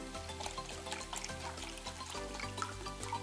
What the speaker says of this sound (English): And we're just gonna pour 1 cup into the